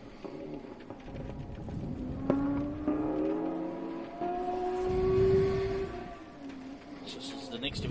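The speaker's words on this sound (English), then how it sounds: "the distinctive sound of the H6 Subaru Impreza, the 3-litre naturally aspirated car" A naturally aspirated 3-litre H6 Subaru Impreza rally car on a gravel special stage in New Zealand approaches from a distance, its engine rising and revving through gear changes as it passes.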